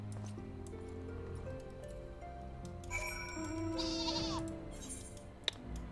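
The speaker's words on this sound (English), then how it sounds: "Time to ride my flying sheep!" A flying sheep mount in Final Fantasy XIV: Heavensward gives a sheep-like bleat over a steady musical background, followed by a bright shimmering effect and a short sharp click.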